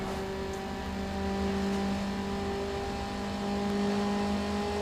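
A Toyota Supra in a racing video game holds a steady, sustained engine drone with a smooth tone, swelling slightly in revs a couple of times, with no voices.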